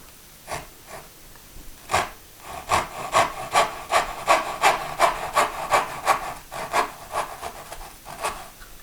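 A hand saw cuts dovetail tails in a wooden board, making rhythmic rasping back-and-forth strokes that start sparse and hesitant, then settle into a steady, close cadence before slowing again.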